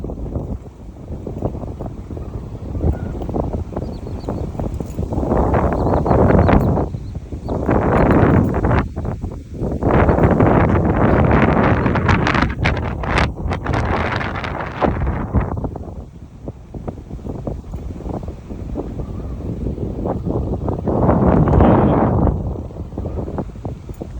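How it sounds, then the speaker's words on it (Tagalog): Strong gusting wind on a rice farm buffets the microphone in heavy, roaring surges that rise and fall, with no voices. "Sobrang hangin."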